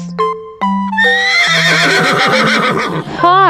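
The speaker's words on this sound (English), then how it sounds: "Horse," A horse whinnies loudly in a long, wavering neigh with stepped rising and falling pitch, preceded by a couple of short tonal notes, close and alone with no talk.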